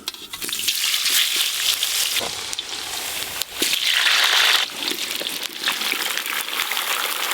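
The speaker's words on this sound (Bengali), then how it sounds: "তেল খুব ভালো করে গরম হয়ে গেছে, এবার এই আলুগুলো লাল লাল করে ভেজে নেব।" Potatoes fry in hot oil in a home kitchen, cooked ahead of a chicken dish for a family gathering; a steady close sizzle and crackle runs throughout with brief surges.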